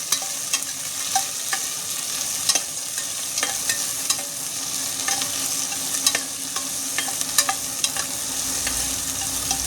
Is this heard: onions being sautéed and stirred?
yes